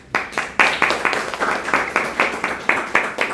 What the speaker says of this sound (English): A huge round of applause for Toastmaster Ashish